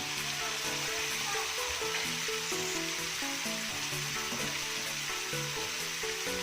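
Fish sizzling loudly as it goes into hot oil for a spicy tauco fish dish, a dense continuous frying hiss close up, with music playing underneath and no talk.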